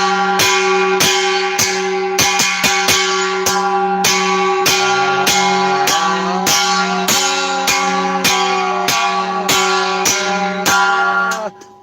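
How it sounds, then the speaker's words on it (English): A large bell rings in a quick, regular run of sharp strikes, each leaving a bright sustained ring that overlaps the next, loud and close, before cutting off abruptly at the end. "I know I'm ringing the bell"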